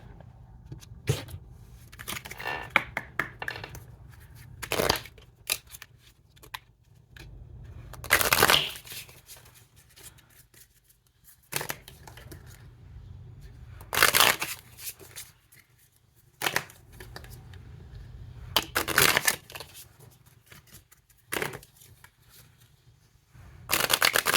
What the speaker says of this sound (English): We're going to start off with some oracle cards and then we'll pull some tarot.